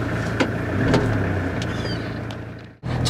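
Steady road rumble inside a moving, still-under-construction homemade camper van with a kitchen, with occasional knocks and rattles from the cabin, briefly dipping near the end.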